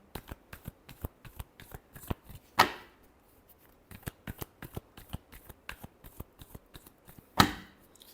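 Tarot cards are shuffled by hand in quick, crisp flicks and riffles, a steady run of close ticks broken by two louder snapping bursts, with no talking.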